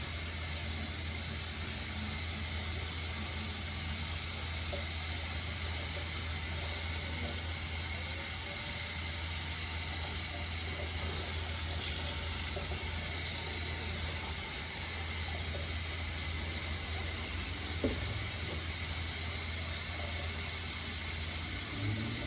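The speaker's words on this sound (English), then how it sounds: "get a little water going" A kitchen tap runs in a steady, even hiss for over twenty minutes while raw dog food is being prepared. The flow is constant and moderately loud, with no talk over it.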